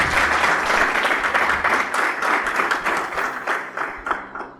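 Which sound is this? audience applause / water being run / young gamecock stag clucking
audience applause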